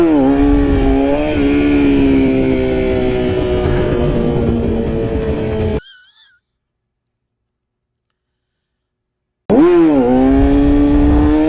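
Loud, close Yamaha R6 sport bike engine revving hard in first gear, a sustained high whine that rises and dips, cuts out to dead silence for a few seconds, then returns at full roar.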